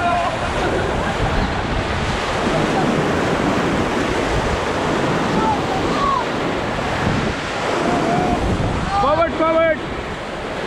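Roaring river rapids on a rafting trip on the Ganges, a loud continuous rushing wash of water and wind, with a guide shouting commands and a person talking near the end.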